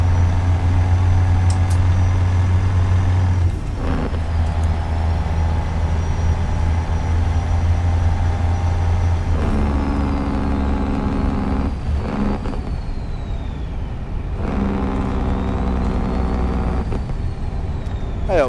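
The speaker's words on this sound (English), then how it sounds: "I use modded engines so they're loud as fuck." A modded Peterbilt 389 truck engine in a truck simulator game drones loud and low without a break, rising and dropping in pitch between several brief dips that sound like gear changes.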